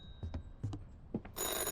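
A telephone rings inside the video game Police Chief Simulator, giving a few short electronic bursts before one sustained bright ring at the end, heard alone and fairly close with no talking over it.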